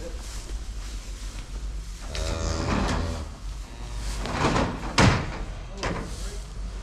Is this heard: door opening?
yes